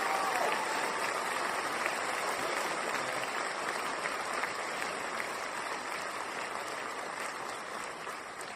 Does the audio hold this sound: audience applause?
yes